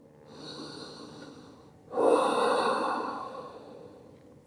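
Deep yoga breathing in restorative child's pose, a soft close inhale followed by a longer, louder, airy exhale, alone without talk.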